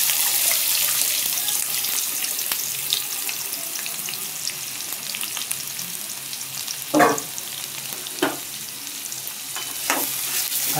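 Onion fries in two to three tablespoons of oil at the start of a chicken dish, giving a constant close sizzle with a few sharper clinks and stirring noises mixed in.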